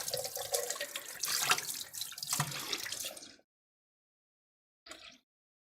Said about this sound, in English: Fill up my jar with a little bit of water.